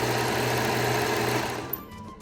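An overlocker sewing machine runs fast and steady as it stitches and trims fabric edges, a dense close mechanical whir that winds down and stops near the end.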